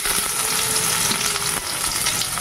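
Onion going into a hot pan with potato and taro that have already been fried until browned, giving a loud, steady, close-up frying sizzle with stirring scrapes throughout.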